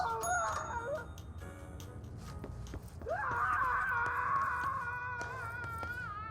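Doorbell-like electronic chimes ring repeatedly inside the video game Control, bright tonal notes swelling over a low ambient rumble, with a louder sustained ringing passage starting midway and fading toward the end.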